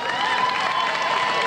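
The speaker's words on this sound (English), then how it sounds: "Give them a round of applause." An outdoor crowd gathered at a city hall for an Olympic torch run event claps and cheers, a dense, continuous wash of applause over its brief duration.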